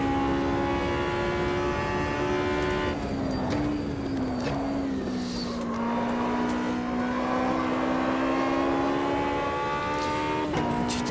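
Race car engine in the racing game Automobilista 2 droning at high revs through a lap, a steady loud whine with pitch dips and rises at gear changes and corners.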